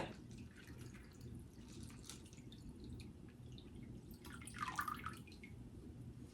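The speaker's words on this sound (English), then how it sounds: "we will need to pour some more water into our sink or float tank" Water poured into a sink-or-float tank, heard as a faint, close trickle and dripping, with a brief splashier burst toward the end.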